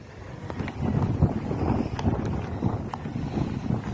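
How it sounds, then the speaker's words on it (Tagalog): Steady gusting wind roars and buffets the microphone outdoors by a lake, a continuous low rumble with no voices. "Magandang ispatan kaso lang mahangin talaga."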